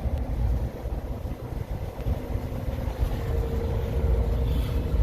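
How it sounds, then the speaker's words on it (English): Steady road and wind roar from inside a 2020 GMC Sierra pickup truck cruising on a highway in hot weather, a constant low rumble with no voices. "Still driving on the highway."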